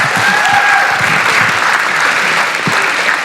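Steady, loud applause from a town hall crowd congratulating a woman honored with an EPA award for activism, continuous clapping with a few louder individual claps.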